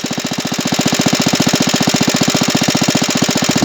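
A Bernard W19A small single-cylinder engine, freshly overhauled ignition, runs steadily and loudly up close with a fast, even thumping beat throughout, no voices.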